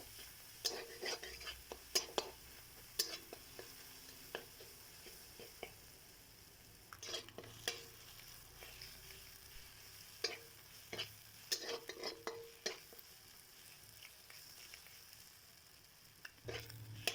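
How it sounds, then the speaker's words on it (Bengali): Egg fries in a pan, a faint low sizzle broken by scattered scrapes and taps of a utensil stirring it through the whole stretch. "ডিমের আস্তে গন্ধটা ভালো মতো ভেজে নিতে হবে।"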